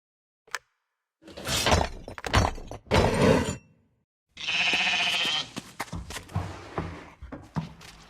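Sheep bleating in the video game Lost Lands 9: Stories of the First Brotherhood, a single nasal bleat of about a second that follows several sharp breaking, shattering bursts, with brief clicks after.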